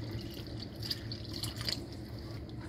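Cooking water from boiling lamb trotters trickles and drips softly into a curry pot, a faint, steady pouring sound with small splashy droplets.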